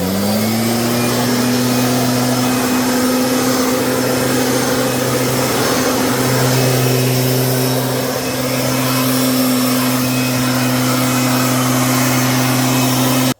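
A two-stroke petrol agricultural blower engine runs steadily at close range, a loud, constant droning hum with a strong low buzzing tone and no pauses or talk.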